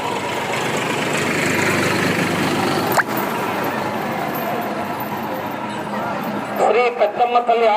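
A 275 tractor idles at a rural animal-pulling competition with a continuous low engine rumble and broadband noise. Near the end a few uneven thumps and faint voices come through.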